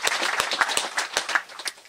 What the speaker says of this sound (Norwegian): Klapp for han også.